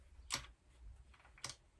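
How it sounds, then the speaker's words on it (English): Relay inside a VW T4 van dashboard clicking, two sharp separate clicks about a second apart, faint and close, with a quiet low hum underneath. "The relay's clicking."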